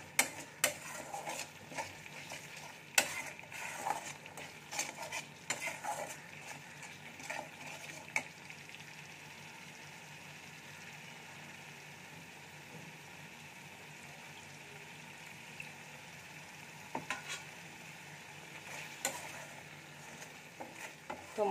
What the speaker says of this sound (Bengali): আরও 1 থেকে 2 মিনিট আমি ভালো করে কষিয়ে নেব।